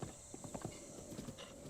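Horse hooves clip-clop in Zelda Breath of the Wild: a steady, fairly quick trotting rhythm of soft, close hoof strikes over a hissy game background, with no talking.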